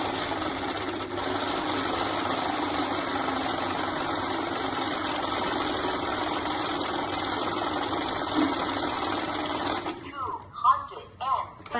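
A mixed-note automatic cash counting machine riffles through Indian banknotes with a fast, steady whirring flutter that runs for about ten seconds, then stops, followed by a few clicks and handling noises.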